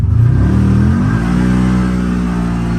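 A CFMOTO off-road vehicle carrying a heavy load pulls hard in low gear, its engine loud and close with a steady rising drone that climbs in pitch as it accelerates.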